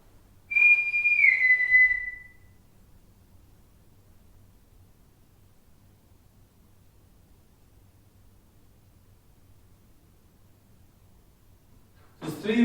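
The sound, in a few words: person whistling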